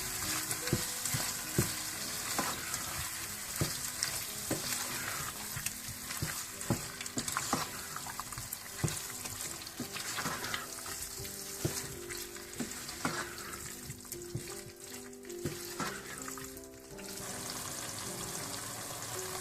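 Chicken handi with fresh cream sizzles and fries in a pot while a spoon stirs it, giving steady close crackling with irregular scraping and clanking strokes throughout, and no talking.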